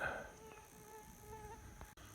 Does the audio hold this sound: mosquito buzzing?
yes